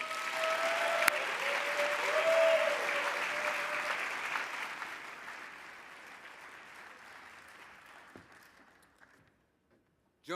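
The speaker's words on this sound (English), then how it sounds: "Please join me in another round of applause" Audience applause fills a large hall at an engineering awards ceremony, loud and sustained at first, then gradually thinning and fading toward near silence over about ten seconds.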